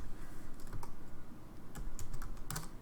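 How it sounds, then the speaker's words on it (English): Quick bursts of typing on a computer keyboard, close and clear, with irregular clusters of key clicks and short pauses. "I'm going to start typing."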